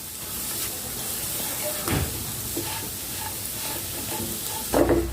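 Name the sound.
moong dal frying and stirred in ghee for halwa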